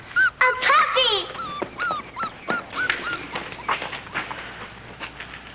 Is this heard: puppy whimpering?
yes